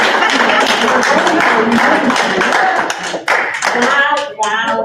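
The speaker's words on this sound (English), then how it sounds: "Can we give them another round of applause?" A conference audience at a kindness event in New York claps loudly and steadily, dense overlapping hand claps filling the room, thinning slightly toward the end with a few scattered voices.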